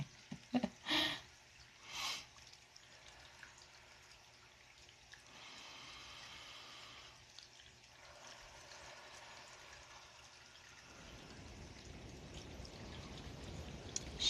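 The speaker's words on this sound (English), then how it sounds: "Can you guys hear the rain?" Rain falls outside as a faint, steady hiss that runs throughout, with a few brief louder knocks near the start and a slightly coarser patter toward the end.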